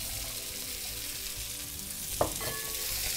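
Celery and vegetables fry in curry powder in a pan, a steady close sizzle with a brief clatter of stirring near the end.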